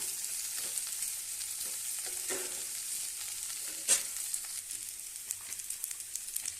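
Okra (lady's finger) sautés in a pan for a dry poriyal, a steady close sizzle and frying hiss with occasional soft stirring scrapes and one brief sharp clink midway.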